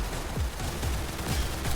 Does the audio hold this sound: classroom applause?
no